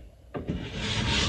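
A hand file rasps along a ski's steel edge during edge tuning, one smooth close stroke that begins abruptly and builds steadily in loudness.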